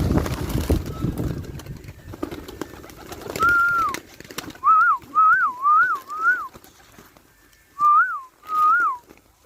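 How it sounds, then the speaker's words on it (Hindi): A man whistles repeatedly to call his pet pigeons at home outdoors, a string of loud, close, rising-and-falling whistle notes in short bursts after some rustling and wind. "इनको सीटी मारते ही ये तुरंत आ जाते हैं"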